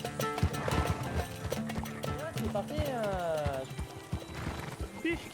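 Horse hooves clip-clop alongside a neigh in Red Dead roleplay gameplay, set against background game audio while people talk throughout.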